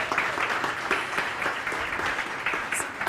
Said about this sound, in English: everybody, a big round of applause to the startups that are going to be here today